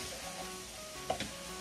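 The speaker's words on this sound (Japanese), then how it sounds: "炒めます。" Food stir-frying in a hot pan while two quick dishes are made in a hurry, a steady quiet sizzle with a couple of brief scraping stirs near the middle.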